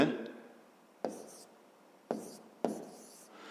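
A pen writes out a maths exercise by hand in short separate strokes, four or five brief scratches with quiet gaps between, close and soft.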